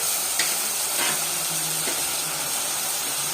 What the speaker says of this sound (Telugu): ఆ మటన్ కూడా మొత్తం దీంట్లో యాడ్ చేసుకోవాలి